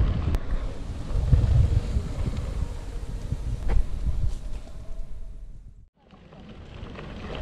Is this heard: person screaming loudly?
no